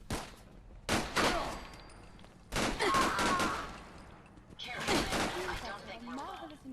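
Gunners firing in a video game, with short bursts of rattling gunfire and impacts mixed with game effects, while someone talks over it.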